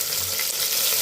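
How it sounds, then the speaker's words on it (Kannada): Onion and tomato fry in hot oil in a pan for Mysore bele khichdi, giving a loud, steady, close sizzle with no speech. "ನಾನು ಈರುಳ್ಳಿ ಟೊಮೆಟೊ ಹಾಕಿದ್ದೀನಿ. ಚೆನ್ನಾಗಿ ಹುರ್ಕೊಳ್ಬೇಕು."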